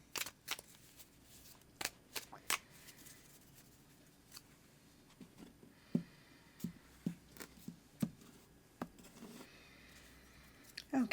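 Tarot cards being shuffled, sped up into quiet, quick clusters of riffling snaps and soft taps at uneven intervals, close by, with no voices.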